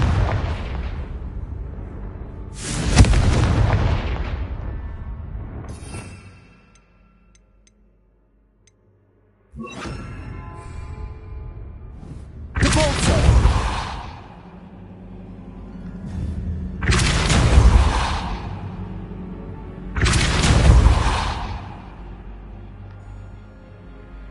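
Confringo fire spells from the video game Hogwarts Legacy land as about five loud, booming explosions in an irregular series, each with a sharp blast and a rumbling tail. A short silent gap falls between the first two blasts.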